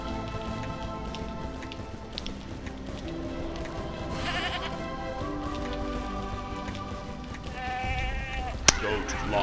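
Goats bleat inside the video game Skylanders Giants over busy background music and layered game effects, the calls fairly faint and mixed into the soundtrack rather than standing alone.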